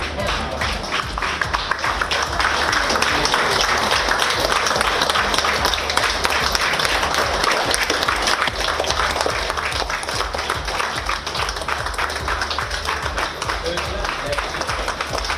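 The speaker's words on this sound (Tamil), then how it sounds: "அவர்களுக்கு அலுவலக ஊழியர்கள் கரகோஷம் எழுப்பி உற்சாக வரவேற்பு அளித்தனர்." Office staff at a Tamil news television office applaud to welcome chess champions Praggnanandhaa and Vaishali, a long, steady burst of dense clapping at close range that holds at an even level throughout.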